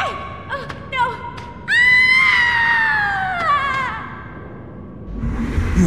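A long, piercing scream from a character in the video game Shank rises sharply, then slowly falls and fades over a couple of seconds after brief shorter cries, loud and close over a dark background rumble.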